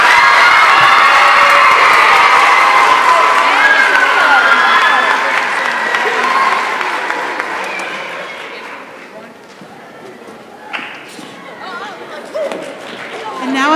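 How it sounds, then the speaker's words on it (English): Audience at a middle school winter chorus concert cheering and applauding after a Jingle Bells performance, a loud dense wash of clapping and shouts that gradually thins and fades toward the end, with scattered voices. "Let's give them one more round of applause"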